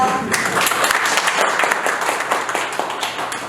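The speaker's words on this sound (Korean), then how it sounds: "큰 박수 부탁드립니다." A crowd applauds with dense, steady clapping throughout, many hands together in a room, fairly loud and continuous.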